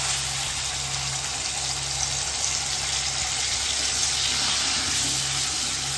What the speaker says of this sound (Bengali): মিক্সির বোলটা ধুয়ে এই যে জলটা দিয়ে দিলাম।